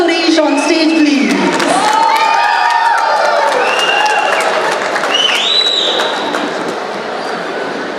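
Applause and cheering from an audience welcoming actress Gopika Suresh onto the stage at a film press meet, a dense, sustained crowd roar with whoops and shouts that tapers slightly near the end.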